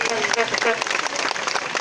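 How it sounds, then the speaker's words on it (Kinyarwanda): A crowd applauds the staff of the Rayon Sports football team at a player presentation, a loud burst of clapping lasting about two seconds with voices mixed in. "Mubaha amashyi."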